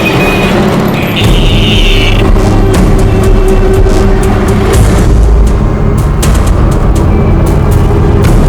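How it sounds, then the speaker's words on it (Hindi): A car pulls away on a street, its engine a steady loud rumble with a brief rising rev, set against busy traffic noise and a dense ambient wash throughout. "हे कांबळे गाडी पुढे घे"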